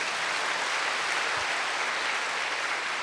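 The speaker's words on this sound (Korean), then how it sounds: "이 세상을 창조하신 하나님께 영광의 박수를 올려드립시다" Church congregation applauding during a Korean sermon, a steady dense wash of many hands clapping at moderate distance, continuous for the whole stretch with no voices on top.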